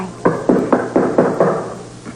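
Six firm, evenly spaced knocks land on a door in quick succession, close and distinct with no talk over them.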